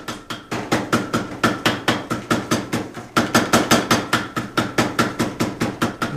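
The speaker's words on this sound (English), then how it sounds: "go back and forge it to the final dimensions" Rhythmic hammer blows forging a hot steel sashimi knife blade, about thirty loud ringing strikes at a steady quick pace with a brief pause midway, close and without talk.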